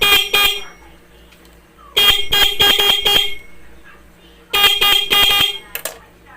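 A stock car horn being tested blares in close, loud bursts: two quick honks, then two clusters of rapid repeated toots separated by near silence.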